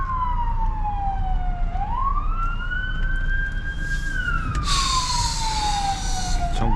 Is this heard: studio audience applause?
no